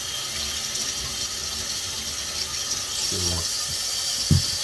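Potatoes being washed under a running kitchen tap, a steady hiss of flowing water throughout with a couple of brief squeaky knocks near the end.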